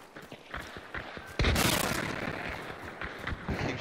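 Video game gunfire: scattered sharp shots over a low background are followed by a heavy, sustained barrage that slowly fades, with more isolated pops near the end.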